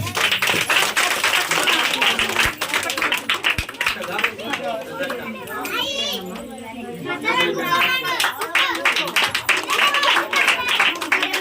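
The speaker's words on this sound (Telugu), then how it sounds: "చప్పట్లు కొట్టండి బిడ్డ" Children clapping at a Christmas celebration: dense, rapid hand claps close by that swell and fade, with a lull in the middle where children chatter and voices talk.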